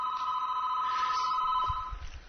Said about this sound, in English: Phone's ringing everywhere.